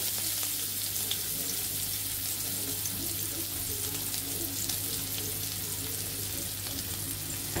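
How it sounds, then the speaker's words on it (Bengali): A small handful of chopped onion frying in hot oil, a dense, even sizzle that holds steady throughout, with light stirring scrapes and no one speaking. "আমাদের তেলটি গরম হয়ে গিয়েছে। এখন আমরা অল্প একটু পেঁয়াজ কুচি দিয়ে দেব।"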